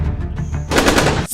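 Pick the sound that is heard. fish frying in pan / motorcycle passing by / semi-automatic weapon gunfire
semi-automatic weapon gunfire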